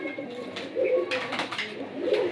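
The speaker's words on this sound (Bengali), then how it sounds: "এই দেখেন খুবই সুন্দর একটা লাল গলা কবুতর।" A red-necked pigeon coos at a pigeon farm, with a few soft, low, throaty calls heard close by amid faint rustling.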